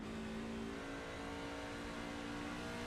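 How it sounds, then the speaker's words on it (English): Outlaw racing truck engine revving hard with gear shifts while accelerating off a corner at a season-finale oval race, a steady loud mechanical drone with a sustained tonal whine and no talk. "We hear Lang using the shifting here to try to get the run off the corner."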